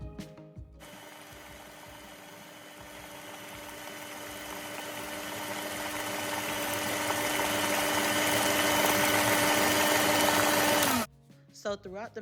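Electric mixer with a whisk attachment beating sweet potato pie filling, a steady motor whir that rises gradually and grows louder for about eleven seconds, then stops abruptly.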